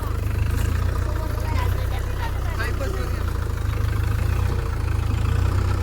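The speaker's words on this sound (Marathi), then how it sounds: "आता ट्रॅक्टर उचलणार आहे." A tractor engine idles with a steady, deep, rumbling drone that holds even throughout, with faint voices in the background.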